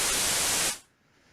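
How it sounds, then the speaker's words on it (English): Filtered white noise from a synthesizer oscillator hisses loudly and steadily for under a second, then cuts off abruptly into near silence. "turn it onto white noise. Now if I play that, you just hear noise, but it's got a filter on it."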